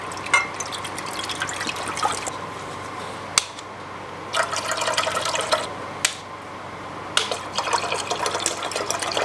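Water running and pouring into a pot to boil for mac and cheese in a snowy outdoor camp setting, a steady liquid gush broken by several short sharp knocks and splashes.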